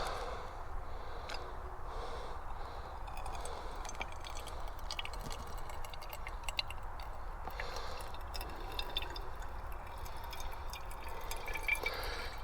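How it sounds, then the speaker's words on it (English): Water is filtered outdoors for a brew, with faint, irregular drips and small trickles falling into a container over a low background hiss, some close ticks and taps among them. "First, let's filter that water."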